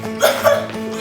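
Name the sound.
exaggerated cough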